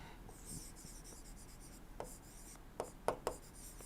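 During a thermodynamics lecture, a pen or chalk writes equations with soft steady scratching and a few sharper taps near the end.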